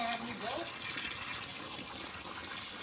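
Well water gushes from a pipe and rapidly fills a tank in a temple garden, a loud, continuous rushing splash that never lets up and is heard close by.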